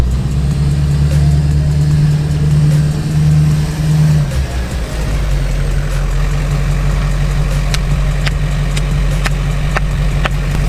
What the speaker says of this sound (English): we're driving a Duramax Swapped OBS right now